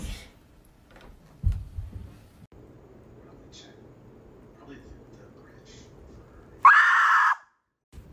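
A cat yowls at a door: one loud, drawn-out cry lasting under a second, close by, breaking a quiet room that holds only faint rustles and a soft thump earlier.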